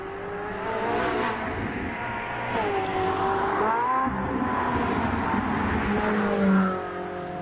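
A Ferrari 458 Italia with a 4.5-litre V8 accelerates on the road, its engine note climbing and falling through revs and gear changes, loud and close, with a brief surge near the end.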